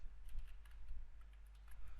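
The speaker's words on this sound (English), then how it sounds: "and I'm just typing" Quiet, steady clicking of keys on a computer keyboard, soft and close, with a low hum underneath.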